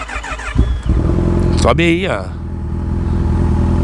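Motorcycle engine starting close by, then revving hard for a couple of seconds before settling to a steady idle; someone speaks briefly over it.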